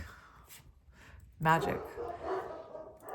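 Dogs barking indoors, with one sharp, loud bark burst in the middle and a few softer yips, heard under a person talking.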